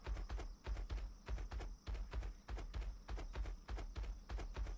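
Horse hooves walking at a steady, even pace in the Atlas pirate game, close and moderately loud with a regular clip-clop rhythm and no talking over it.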